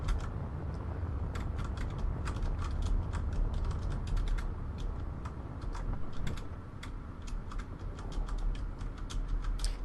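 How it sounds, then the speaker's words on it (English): Space Engineers welding tool runs as a steady, dense mechanical grinding hum with rapid clicking crackles on top, continuous and close throughout with no talk. "I'm just gonna weld what I can here."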